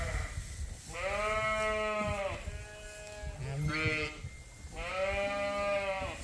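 Newborn lambs on a sheep farm bleat several times in quick, wavering calls, fairly faint and close, with low background noise between them.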